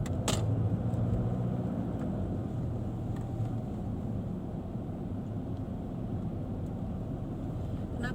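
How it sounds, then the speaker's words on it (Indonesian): Steady low rumble of road traffic at a hospital, vehicles passing at a moderate distance in a continuous wash, with a brief knock near the start. "Kenapa banyak sekali ini lalu lintas di rumah sakit ini?"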